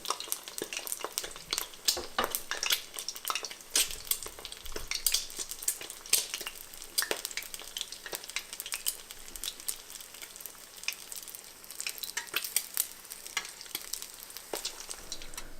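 An egg fries in hot oil for a Thai fried egg salad while oil is spooned over it: dense, close crackling and spitting with constant sharp pops and bursts, loud and unbroken, no voices.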